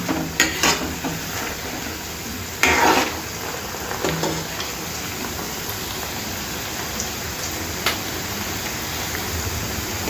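Veg Manchurian balls fry in oil in a pan over a medium flame, an even crackling sizzle throughout with a few clinks and scrapes as they are turned.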